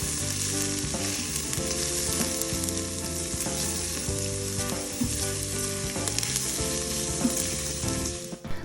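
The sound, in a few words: vegetables sautéing in an Instant Pot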